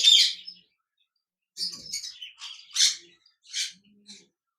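A classic budgerigar breeding pair gives a scattered series of sharp, high chirps and squawky tweets with short silent gaps between them, close and clear.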